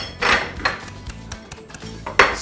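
Small coffee cups being set out on a coffee corner, with several ceramic clinks and knocks at irregular intervals, close and fairly clear, no voices.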